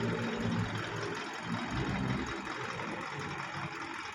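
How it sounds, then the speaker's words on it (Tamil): A Bentley engine idling steadily after starting, a continuous mid-pitched rumble with slight vibration, close and fairly loud throughout, with no talking. "அங்கே பாருங்க வண்டி ஸ்டார்ட் ஆகிட்டு எப்படி சும்மா இருங்குது"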